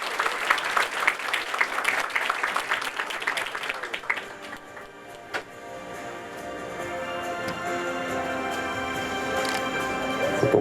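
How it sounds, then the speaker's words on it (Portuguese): Applause at an honor-of-merit award ceremony of a Brazilian urology society, clapping strongest at the start, then fading under a swelling musical passage that carries on to the end. "Vamos acolher também com aplausos."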